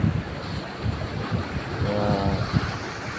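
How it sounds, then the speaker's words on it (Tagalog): Strong sea waves churn and wash close by around a small fishing spot, heard through heavy wind buffeting the microphone, with a continuous rough roar and surges. "Lakas ang alon."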